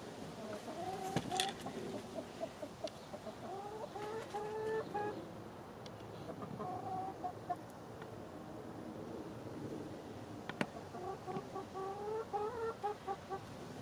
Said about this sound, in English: Chickens have become my pet of choice.